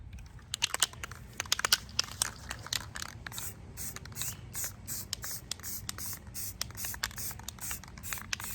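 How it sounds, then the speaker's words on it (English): Short bursts of spray paint hiss onto a thrifted metal towel hook rack, several quick sprays in a row with faint handling scrapes between them, close and fairly quiet. "So I'm gonna spray it and get it done."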